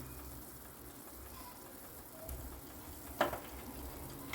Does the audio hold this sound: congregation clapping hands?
no